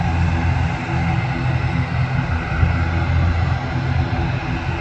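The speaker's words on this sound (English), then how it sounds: "Let's have another prop takeoff," A Loganair propeller aircraft taking off at Manchester Airport, its engines giving a steady, loud droning rumble with a broad roar that holds evenly throughout.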